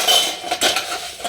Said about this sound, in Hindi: तो चलिए सारे बर्तनों को अब ले लेते हैं।